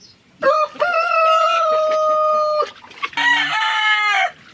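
A battle cock crows loudly and close by, one long drawn-out call followed by a second shorter crow, alone with no talk over it.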